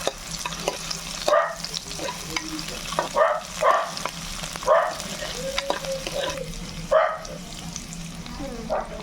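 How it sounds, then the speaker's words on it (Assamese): Onions fry with potatoes and a bay leaf in a pan while being stirred for Maggi, with a low steady sizzle broken by repeated scraping strokes of the spoon at an uneven rhythm. "এতিয়া পিঁয়াজখিনি অলপ ভাজি দিম"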